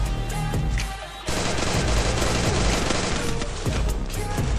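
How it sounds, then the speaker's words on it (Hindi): Rapid gunfire in a Free Fire clash squad match, dense volleys of shots crackling continuously after a brief quieter moment, loud and close. "लकी का हेडशॉट"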